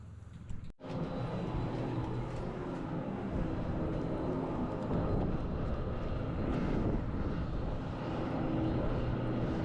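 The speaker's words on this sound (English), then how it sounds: "which was this 28-year-old BAE Jetstream 41 delivered to Eastern Airways in July 2003." Turboprop engines of a 28-year-old BAE Jetstream 41 airliner drone steadily in the cabin, a dense broadband roar that continues evenly for nearly ten seconds after a brief thump at the start.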